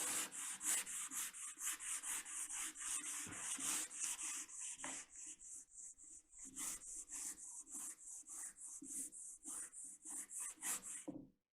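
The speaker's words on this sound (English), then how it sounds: "I found some 180 grit sandpaper, so this should go a little bit faster." Wood being sanded by hand with 180 grit sandpaper during pore filling gives close, rhythmic back-and-forth rasping strokes, continuous at first and then in shorter regular passes that stop abruptly, with no talk.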